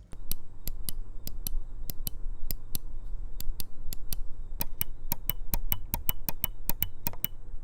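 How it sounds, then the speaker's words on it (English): Sharp, dry clicks of a gaming mouse button repeat in quick succession, close up and alone, at an uneven pace that speeds into rapid bursts toward the end. "they offer a sharp clicking sound instead of the ringy thud that you find on the Logitech G502x"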